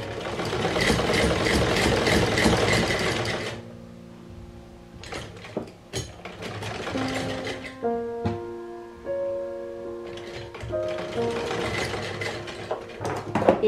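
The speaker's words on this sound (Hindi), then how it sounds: "अब हम सादा सिलाई लगाएंगे।" A sewing machine stitching a baby cap runs in a loud, fast continuous whir, pauses for a stretch filled with tonal hum and clicks, then starts running again.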